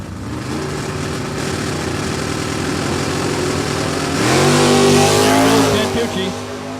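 Stock and Super Stock drag race cars, including a G-Stock automatic Camaro, launching off the line at a Canadian drag strip, engines rising to a loud roar midway through, with an announcer talking over the noise.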